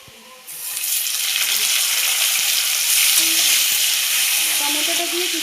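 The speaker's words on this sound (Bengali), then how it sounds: "এবার আমি কুচনো টমেটোটা দিয়ে দেবো।" Chopped tomatoes hit hot oil over lightly fried potatoes and onions for an egg and potato curry, a loud, steady sizzle that jumps up after half a second and holds, with faint stirring scrapes.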